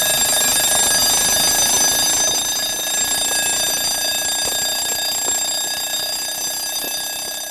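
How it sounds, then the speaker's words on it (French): A loud alarm clock rings continuously with a shrill, steady metallic tone that stays close and dominant throughout, with no talking over it. "Qu'est-ce que c'est que ce vacarme? Votre réveil."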